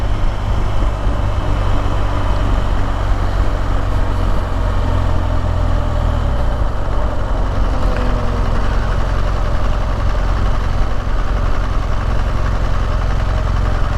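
A BMW GS 1200 motorcycle engine drones steadily while riding through open country, a loud continuous low rumble with wind noise throughout and no talking.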